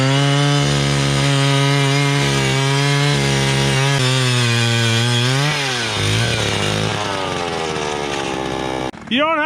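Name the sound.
ice auger drilling through thick lake ice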